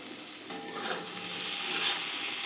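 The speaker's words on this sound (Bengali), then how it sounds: "বেগুনটা ভাজা হতে হতেই এর মধ্যে দিয়ে দিচ্ছি একটা কাঁচা লঙ্কা।" Pieces of brinjal fry in a pan with a broken green chilli, giving a continuous close sizzle that grows slightly louder while being stirred.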